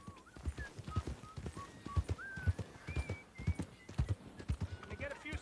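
Horse hooves clip-clopping in Red Dead Redemption 2, a steady rhythmic gait up close with an occasional whinny, over background game music and whistle-like tones.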